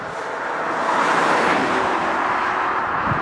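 An Alfa Romeo Giulia sports sedan with an automatic transmission accelerates hard, its engine note swelling into a sustained, loud roar blended with road noise.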